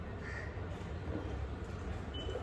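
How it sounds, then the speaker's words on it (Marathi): Birds coming in to eat food call faintly in the distance, a single brief crow-like caw rising from a low, steady outdoor rumble. "खरंच यार पक्षी येत आहेत खायला"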